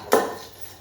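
A single clattering knock of dishes and utensils being scrubbed during washing up, a brief bright clank that rings off and fades over quiet background.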